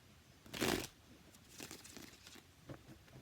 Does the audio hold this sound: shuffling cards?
yes